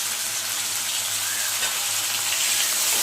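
Sliced long eggplant and chopped tomato fry in a pan with a steady, close hiss and crackle of sizzling oil, heard alone without any voices.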